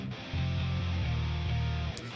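A distorted metal guitar chugs palm-muted chords over an older bass tone, the low end sitting apart from the guitar in a loud, continuous two-second riff with brief gaps between phrases, no talking.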